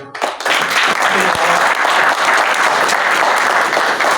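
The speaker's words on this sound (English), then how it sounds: "Can we please have a round of applause for?" After a brief moment of voices, loud sustained applause swells from the crowd at a Pakistan–Canada diplomatic anniversary gathering in Ottawa, continuing evenly to the end.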